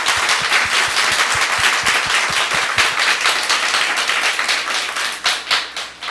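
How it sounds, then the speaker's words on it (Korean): A church congregation applauds in praise during a revival service, many hands clapping together in a dense, sustained burst with some sharp individual claps standing out near, fading slightly toward the end. "먼저 감사와 영광의 박수를 좀 올려드리도록 하겠습니다."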